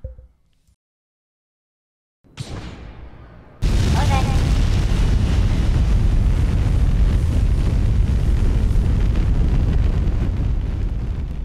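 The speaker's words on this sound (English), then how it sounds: "here we are, blasting off the pad. The power of those 5 Mammoth 2 engines really shows" Five Mammoth 2 engines on a rocket lifting off the pad in the video game Kerbal Space Program 2: after near silence a rising rumble bursts into a loud, sustained roar that fills the rest of the clip.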